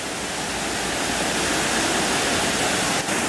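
Steady, loud rush of a waterfall beside an animal pen, a continuous dense roar without breaks.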